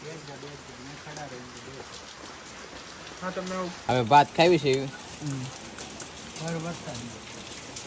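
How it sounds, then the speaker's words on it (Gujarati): Steady rain patters in the background while people talk nearby, their voices rising and falling over the continuous hiss of falling water. "વરસાદ આવે છે"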